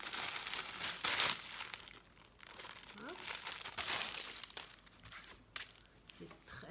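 Crinkly plastic packaging on a cheap Action haul item being torn open and handled, a steady close rustling and crackling with brief tearing bursts.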